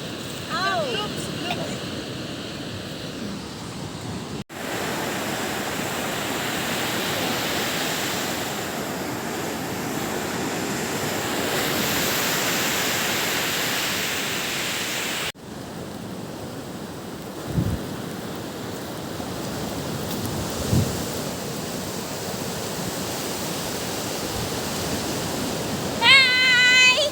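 Ocean surf at a beach washes in a steady, broad roar with wind buffeting the microphone, interrupted by a few bumps and handling noises, with voices chattering over parts of it.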